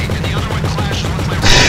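In GTA V, rapid gunfire crackles in a dense burst, close and loud, with a sharper blast at the end.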